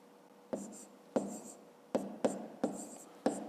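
Pen strokes writing out a fifth-grade math problem, about six short scratchy marks at an uneven pace, close and fairly quiet, with no talk.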